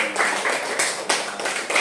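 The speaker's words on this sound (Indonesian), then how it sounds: "tepuk tangan dulu dong" A school class claps hands during a lesson, a brief burst of close, loud claps with a rough rhythm of several strong hits.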